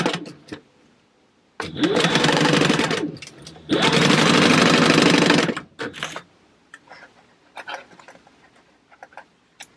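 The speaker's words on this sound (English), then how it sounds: "we're going to sew down this side and sew down this side so that our card slots are in, in position and aren't going to go anywhere" A sewing machine bastes card slots into place along the sides of a Howler-inspired purse, running in two loud, steady stitching bursts of about two seconds each with a short pause between, then quiet handling clicks and taps.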